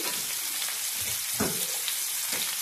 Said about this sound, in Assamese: তেলটো গৰম হোৱাৰ লগে লগে ইয়াতে মই কাটি লোৱা পিঁয়াজখিনি দি দিলোঁ